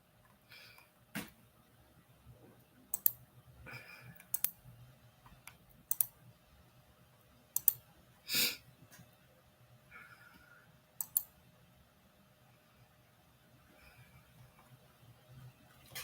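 Single computer mouse clicks, sparse and irregular, sounding close against a quiet room with a faint low hum and occasional soft rustling between them.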